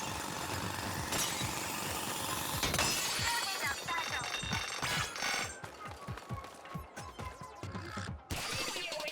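A drill grinds into a crystal in Splatoon Raiders until it shatters, with a sharp crack followed by a run of rattling, juddering impacts and tinkling debris over a steady mechanical hum.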